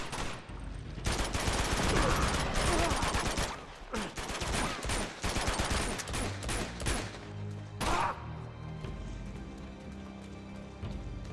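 Gunfire and explosions in the video game Uncharted 2, with dense rapid bursts of automatic shooting and sharp blasts that thin out into sporadic shots and a final boom.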